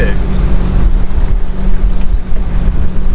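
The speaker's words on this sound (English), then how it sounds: "I'm going to start turning the boat into the dock" Scarab 165 jet boat maneuvering slowly toward a dock, a loud low engine rumble steady under heavy wind buffeting on the microphone, without speech.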